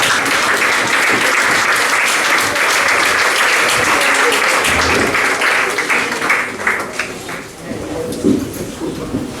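A Portuguese lecture audience applauds loudly and steadily throughout, a dense sustained roar of many hands that thins slightly toward the end as scattered voices come through.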